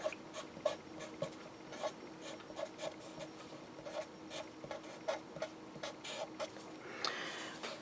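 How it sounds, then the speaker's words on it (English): Chalk or marker scratches and taps on a board during a physics lecture, coming as short, uneven strokes in bursts and faint against a quiet room, with no one talking. "So let me write that out"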